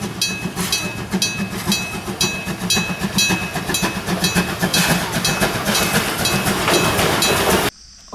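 Thomas toy train rattling continuously with a steady clicking, whirring mechanism, loud and close, cutting off abruptly near the end.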